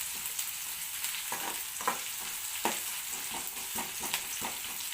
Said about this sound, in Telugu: ఇది మొత్తం మంచిగా మిర్చి కానీ ఆనియన్ కదా మంచిగా ఫ్రై అయ్యేలాగా